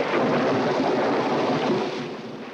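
Thunder from a lightning storm rolls as a broad, dense rumble that holds steady at a strong level, then fades slightly toward the end, with no voices.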